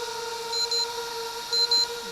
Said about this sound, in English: That's the battery warning.